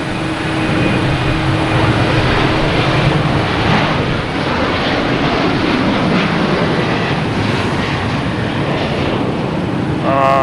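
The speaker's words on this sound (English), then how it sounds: "I have an American Airlines heading to Dallas Fort Worth, 737-800." An American Airlines Boeing 737-800 airliner bound for Dallas Fort Worth at Boston Logan Airport, a loud, broad jet roar that stays strong and steady across the whole stretch.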